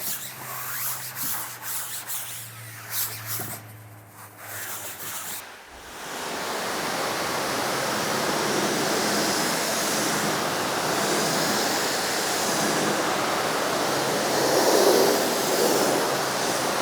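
Early rattling and handling noises give way to a loud, steady hiss of pressurized water spraying cleaner off the inflatable tube of a RIB boat, continuous and close.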